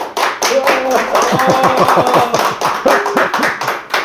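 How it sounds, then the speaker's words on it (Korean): A small group claps together to welcome an interview guest at a commemorative society gathering, a steady patter of close hand claps running throughout while voices talk over it. "우리 다 같이 박수로 환영 한번"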